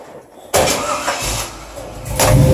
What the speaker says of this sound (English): Old Chevy pickup with a new Chevy motor.